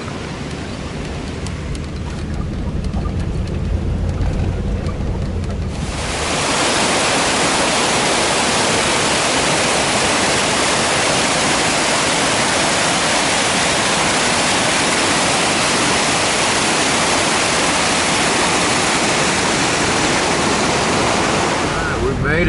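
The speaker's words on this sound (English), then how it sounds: "It's a beautiful creek." Geneva Creek, a mountain creek in high country, rushes loud and continuous, its broadband wash rising sharply after a quieter opening few seconds and holding steady to the end.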